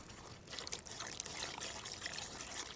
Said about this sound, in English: now it's just a case of pouring the wet ingredients into the dry